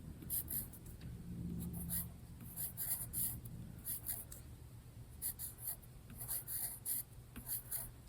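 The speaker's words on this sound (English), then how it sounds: "I'm going to write my name." A pen scratching out a name on a seed packet label for a greenhouse planting, heard as close, quiet bursts of scribbling strokes in an irregular rhythm, with no talk.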